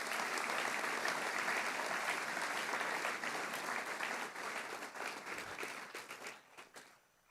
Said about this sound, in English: can we give these boys a round of applause?